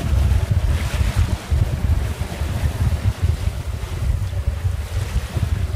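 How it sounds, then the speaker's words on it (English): Strong wind of about 25 knots roars and buffets the microphone aboard a small trailer sailer under a fully reefed mainsail, with the rushing wash of waves continuous and close. "I think it'll be blowing about 25 knots at the moment."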